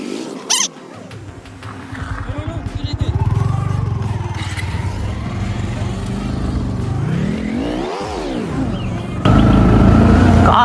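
A car engine revs and strains up a steep hill road in Idukki, its pitch rising and falling with heavy throttle and growing loud near the end, while people talk over it.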